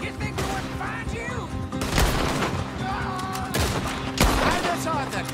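Gunfire rings out at pursuers in a chase, with bursts of shots and crashing impacts mixed in with loud action scoring and brief shouted voices.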